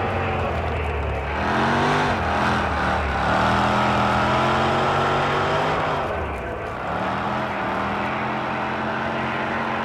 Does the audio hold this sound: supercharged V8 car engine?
yes